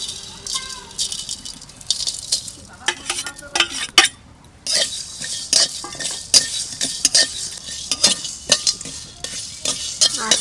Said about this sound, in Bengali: আস্তে আস্তে জাল দিয়ে ভেজে নিলাম